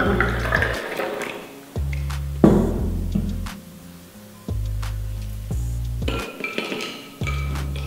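Water poured into a tamarind panha summer drink, a steady splashing pour broken by a few glass or metal clinks, with music playing underneath.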